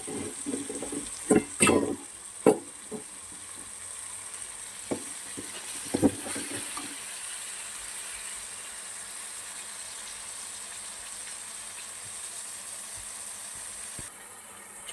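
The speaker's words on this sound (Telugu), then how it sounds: "దీన్ని బాగా ఫ్రై చేసుకోవాలి పచ్చి వాసన లేకుండా" Washed leafy greens fry and sizzle in a hot pan, a steady bright hiss throughout, broken early on by several loud clattering stirs before settling into even sizzling.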